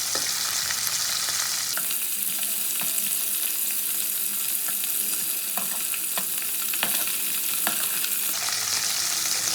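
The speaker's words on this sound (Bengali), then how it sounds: "মাছগুলো আমি এপিট ওপিট করে একটু ভেজে দেবো, খুব বেশি ভাজার দরকার নেই।" Khoira fish frying in hot oil in a pan, a steady loud sizzle with occasional crackles and spatters lasting throughout, close by with no talk.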